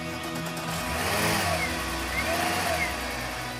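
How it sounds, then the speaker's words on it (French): A Volkswagen Golf 3 with a VR6 engine runs and revs after being started, a steady broadband engine roar that swells slightly in the middle, with faint voices underneath. "le son qui vrombit du VR6"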